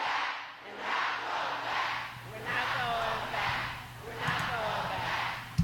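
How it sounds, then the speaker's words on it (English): An arena crowd chants a short slogan in repeated rhythmic phrases, several loud surges rising and falling over a steady background hum. "a chant is started in the crowd there"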